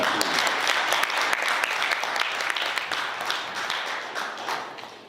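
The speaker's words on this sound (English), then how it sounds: "Brothers, another round of applause for Brother Kojo Ken." Sustained applause from a large audience at a fraternity Founders Day banquet, dense and steady clapping that fades slightly toward the end, with no voices over it.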